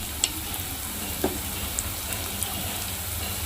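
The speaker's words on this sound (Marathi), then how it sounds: "आता आपला कांदा चांगला परतून झालेला आहे आता आपण त्यामध्ये हिंग टाकून घेऊया" Onion fries in a pan with asafoetida and turmeric, a soft, steady sizzle with a few faint ticks and pops. It stays quiet and continuous throughout, with no voices.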